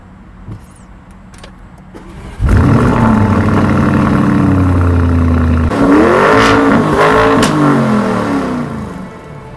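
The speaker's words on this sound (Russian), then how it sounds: "давайте послушаем, как дышит эта машина" A Lamborghini Urus engine starts with a loud burst and then settles into a deep idle. A couple of hard revs follow, close and loud, with no one talking over it.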